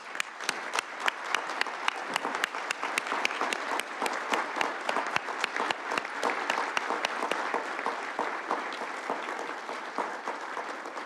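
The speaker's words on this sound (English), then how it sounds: "please stand and give him a round of applause" A standing audience applauds at a judicial installation ceremony, with sparse, distinct individual claps sharp and fairly near, continuing unevenly for several seconds at moderate volume.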